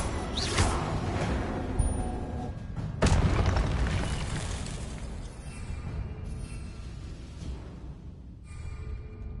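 A Confringo spell explodes in Hogwarts Legacy with a couple of sharp booming blasts followed by a fading rumble.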